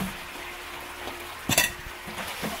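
Chicken wings for buffalo wings drop into hot bubbling oil, a brief splashy burst followed by a soft steady sizzle of frying, with faint clinks of utensils.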